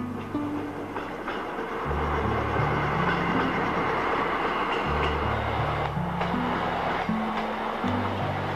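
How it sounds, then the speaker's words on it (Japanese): A Super Hitachi express train rolls into a depot at night, its electric motors humming in rising and falling stepped tones over a steady rumble of wheels on rail, loud and close throughout. "電車が入ってきたようです。"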